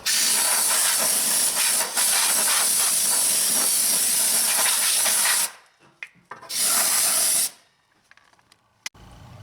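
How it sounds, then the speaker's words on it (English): Compressed air blasting debris and rocks out of the rear suspension of a BMW E46 3 Series, a loud continuous hiss for several seconds, then a second short burst and a brief final puff. "I can clean all this out with compressed air to make sure that there's no rocks"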